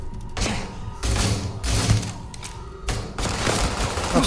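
Enemy gunfire erupts in Starfield aboard a bank heist on the Siren, with loud bursts of rapid shots coming in several separate volleys and short pauses between them.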